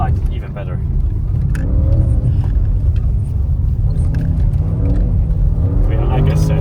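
An Audi RS6 C8 drifting in snow: loud, steady engine rumble and road noise throughout, with rising and falling revs as the car slides, while people talk over it inside the car.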